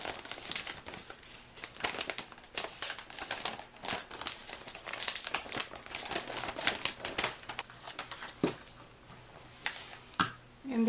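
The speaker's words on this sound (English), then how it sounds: "So we're just going to fold the corners over." Paper corners of a Snow White treat bag being folded over, with close, soft crinkling and rustling in irregular bursts throughout, quiet and unaccompanied by talk.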